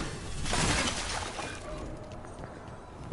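Crystals being smashed in the video game Dragon Age: The Veilguard, a loud crashing shatter early on that decays into a noisy tail, with a small sharp crack at the very end.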